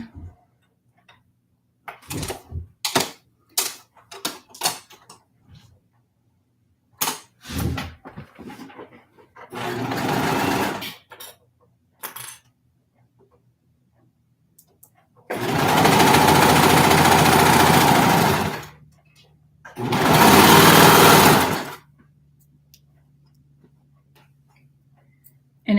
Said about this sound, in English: And I'm going to sew that on.